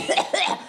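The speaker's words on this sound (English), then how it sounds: "Not with all that coughing that you're doing." Two quick, harsh coughs close up, one right after the other.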